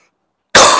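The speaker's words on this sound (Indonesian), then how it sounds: "mohon maaf saya sedang batuk sedikit" A single loud, close cough from a preacher during an Islamic sermon, bursting abruptly out of silence.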